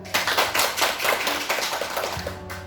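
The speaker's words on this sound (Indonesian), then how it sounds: "Tepuk tangan dulu." Audience at a school community event for teacher trainees breaking into dense, loud clapping that fills the whole moment, steady and sustained with no talk over it.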